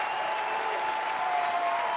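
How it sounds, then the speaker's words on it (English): A baseball crowd in Knoxville applauds steadily during a Texas versus Tennessee game, a dense, even roar of clapping with a few cheers mixed in, sustained for the whole moment. "They're cheering on Arvidsson here in Knoxville."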